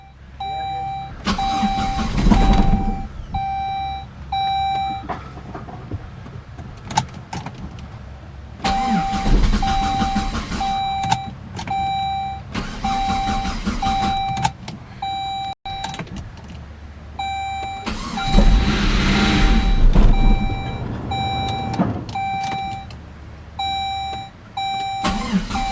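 A Saab turbo car's ignition sequence plays as the key turns: repeated electronic warning chimes ring at regular intervals over several bursts of engine cranking and running, with no talking.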